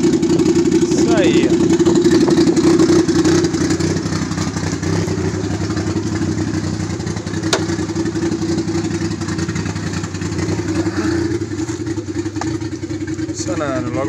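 A turbocharged Honda engine running on its first start, a loud, close, rough idle with clattering mechanical noise and rising revs, while voices talk nearby.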